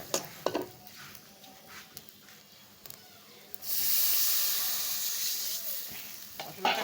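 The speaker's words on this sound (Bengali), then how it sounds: "মশলাটা কষায় নিচ্ছি, মশলাটাকে কষায় নিচ্ছি, নিয়ে মাছটা ছেড়ে দেবো।" A spice paste with garlic, ginger and cumin sautés in a pan. Quiet stirring scrapes give way to a loud, close sizzle that swells up midway and then fades a little.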